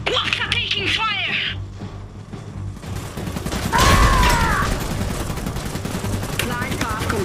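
Battle gunfire from the Iron Harvest real-time strategy game, a dense crackle of shots under steady game sound and unit voice lines, with a louder burst near the middle.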